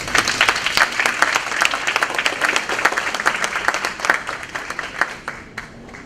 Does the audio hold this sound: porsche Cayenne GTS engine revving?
no